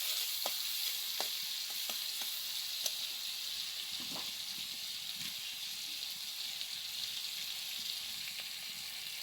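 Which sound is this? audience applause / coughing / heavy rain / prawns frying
prawns frying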